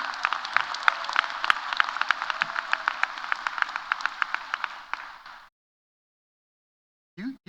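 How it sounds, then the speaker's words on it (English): Applause from a commencement ceremony audience, a steady crowd of clapping with sharp individual claps standing out, lasting about five seconds before cutting to silence, then a brief voice. "Classmates, please give a huge round of applause to those who have joined us this evening"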